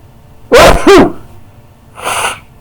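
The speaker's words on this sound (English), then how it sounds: "I'm about to sneeze" Two sharp sneezes in quick succession, loud and close, followed after a pause by a softer breathy sniff or exhale.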